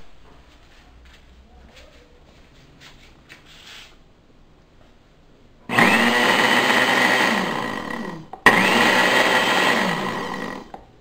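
A kitchen blender pulses ingredients into a fine powder for a diet Uruguayan alfajor cake, with two loud, close whirring bursts after a quieter start with faint handling noises. The first burst lasts several seconds and the second follows after a brief stop.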